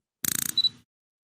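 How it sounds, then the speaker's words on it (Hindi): Camera shutter sound effect: a rapid burst of about eight crisp mechanical clicks, then a brief high electronic beep and a softer closing click, loud and isolated against silence. "camera shutter"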